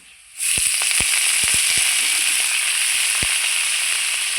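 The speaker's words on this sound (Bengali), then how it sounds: "এইবার আমি বোতা শাকগুলো ছেড়ে দেবো" Whole bota greens hit hot oil with golden fried garlic, bursting into a loud, steady sizzle that holds through to the end, with a few sharp crackles and pops near the start.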